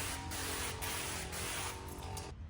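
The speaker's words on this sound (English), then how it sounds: "Spray your window." Tint solution is sprayed onto a car's curved side window in several short, close hisses of a spray bottle, quiet and with no talk.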